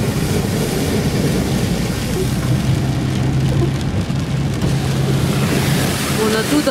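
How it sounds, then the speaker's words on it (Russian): Heavy rainwater runoff pouring down a mountain road after a strong rainstorm near the Caspian coast in Dagestan, a steady broadband rushing roar that stays loud and constant throughout, with wind buffeting the microphone. "Вот прям реки по дороге льются."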